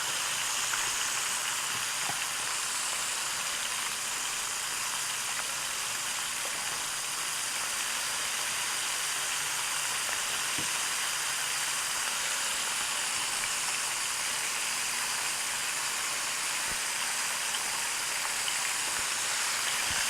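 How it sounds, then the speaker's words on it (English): Frog legs frying in a pan for a field-to-plate cookout, a steady close sizzle and hiss with occasional crackles and pops that runs unbroken throughout. "So you can fry them pretty quick."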